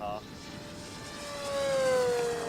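A small aircraft makes a fast speed pass, its engine a steady tone that rises and then slowly falls in pitch as it passes, growing louder toward the end, heard outdoors.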